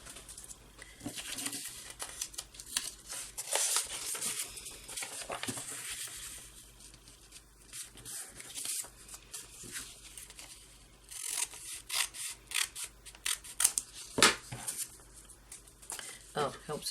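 Scissors cutting through book pages for paper crafting, with intermittent snips, rustles and paper rubbing spread unevenly throughout, loudest in a few sharp bursts, while a person talks over the work.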